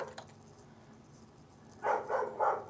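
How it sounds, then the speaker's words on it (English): A dog named Charlotte barks a few times in quick succession near the end, fairly loud against a quiet room background, with no talk over it. "Can you hear Charlotte barking?"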